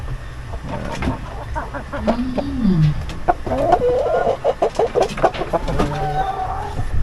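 A young stag rooster clucks in a backyard flock, giving a run of close, loud rising and falling clucks that quicken into rapid chatter near the end, heard alone without talk.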